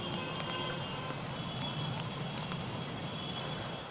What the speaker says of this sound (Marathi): आज सकाळपासून पुन्हा एकदा मुंबईच्या पश्चिम उपनगरामध्ये तो जोरदार पाऊस कोसळत असल्याचं चित्र